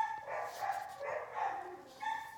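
Two dogs barking together in a home setting, the repeated barks overlapping at moderate distance while a person talks softly nearby.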